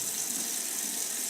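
Warm water runs steadily from a sink faucet into a basin, a continuous close hiss and splash with no pauses and no voices.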